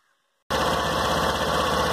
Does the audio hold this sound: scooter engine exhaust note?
yes